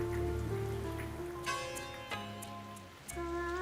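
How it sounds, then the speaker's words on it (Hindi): Steady rainfall makes a soft, even hiss beneath a low musical drone, with scattered brighter notes rising over it throughout. "आ वर्षा भी होछि"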